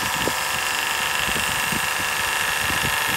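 A Stella land-based watermaker runs steadily with a dense, loud mechanical hum and faint rhythmic pulsing while its pressure is wound up toward 800 psi.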